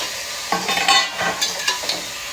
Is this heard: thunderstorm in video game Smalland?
no